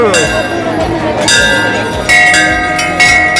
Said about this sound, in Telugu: అయ్యా శివయ్య గంట కొట్టయ్యా ఒకసారి